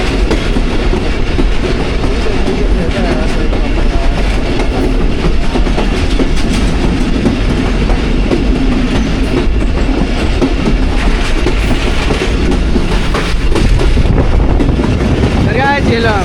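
Passenger train on the Awam Express route crossing the Jhelum river bridge, with a loud, continuous rumble and steady clickety-clack of wheels on rails, plus some wind noise, lasting throughout.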